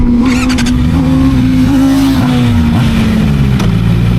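A 2026 QJ SRK 600RS motorcycle engine running loud and close, a steady idle with a couple of quick blips in pitch, no talk.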